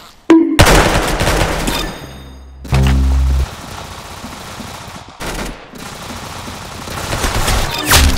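Loud, rapid gunfire bursts from a video game crackle back to back, with a few heavy thuds and a brief tonal blip between volleys; no talking.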